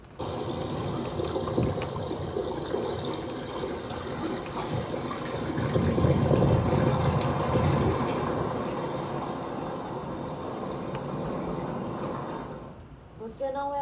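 Water runs and gushes steadily for most of the span, swelling in the middle before tapering off near the end, with a faint voice underneath at times.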